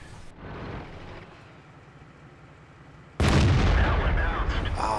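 A single heavy cannon shot from an AMX tank in a tank battle game, a sudden loud boom that erupts after quieter engine rumble and rings out into a sustained roar, with a commentator's voice present.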